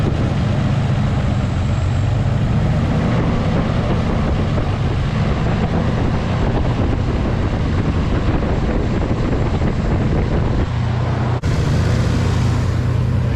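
The Stillen Z car's engine runs steadily at close range, a dense rumbling drone with wind buffeting the microphone throughout and an abrupt shift in tone near the end.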